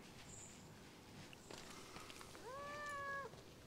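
A cat meows once, a drawn-out rising and falling cry, faint against a quiet outdoor seaside background near boat garages in Alushta, Crimea, with scattered soft noises.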